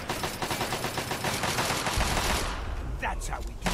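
Rapid bursts of automatic gunfire crackle loudly and densely in Fallout 3, thinning out near the end into a few scattered sharper shots.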